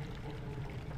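Water pours and rushes steadily after a gate opens in a temple in The Legend of Zelda: Twilight Princess, a continuous low gushing stream heard alone.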